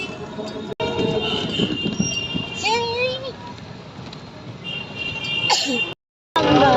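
A train at Prayagraj railway station rumbles steadily with squealing wheel tones and rising whistles, while voices and station noise carry underneath throughout, with a brief dropout near the end.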